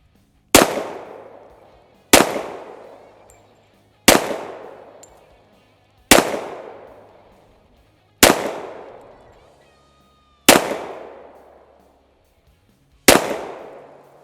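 Seven sharp, loud shots from a 1911 Government A1-style pistol fired with a standard GI magazine at a 10-yard target, spaced about two seconds apart, each a crisp crack with a short ringing decay at an outdoor range.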